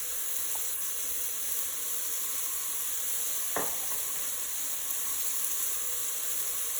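Quarter of an onion and a tablespoon of garlic fry in butter, giving a steady, close sizzle that runs the whole way through, broken once midway by a brief clack of a stirring utensil; no one speaks.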